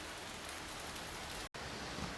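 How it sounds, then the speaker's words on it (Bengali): Steady rain falls as a dense, even hiss on surfaces, close and continuous, with a brief dropout partway through. "আর এই দেখো, বৃষ্টি শুরু হয়ে গেছে"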